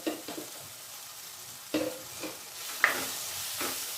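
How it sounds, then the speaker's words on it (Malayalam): Spice powders, including coriander and black pepper powder, stirred into chicken roast masala in a pan: quiet sizzling with a few sharp spoon scrapes and taps at irregular intervals, close and fairly soft, no talk. "പൊടികളൊക്കെ നന്നായിട്ടൊന്ന് മിക്സ് ചെയ്ത് കൊടുക്കുക"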